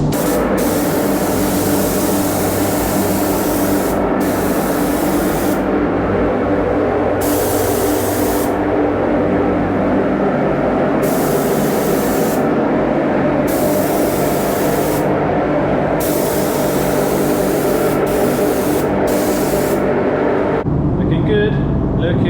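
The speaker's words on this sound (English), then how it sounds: "I'm going to put a final coat of lacquer on" Spray-can lacquer applied as a final coat to an RC car shell: long, loud hissing bursts separated by short pauses, ending with a quiet stretch.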